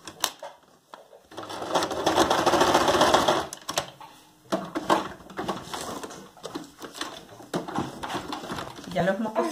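Sewing machine stitching a gathered, puffed sheer curtain, running in a steady loud burst and then in shorter start-stop runs, close by, with a voice talking between stretches.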